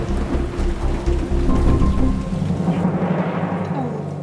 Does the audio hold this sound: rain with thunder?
yes